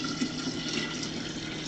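Apple cider vinegar poured from a bottle into a jar for pickling red beet eggs, a steady faint trickling stream running without a break and no talk.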